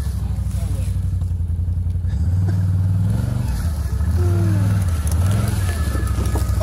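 A vehicle rolls through rough hunting terrain, its engine droning and rising with rattles and clatter from the load, close and loud, with a voice speaking over it.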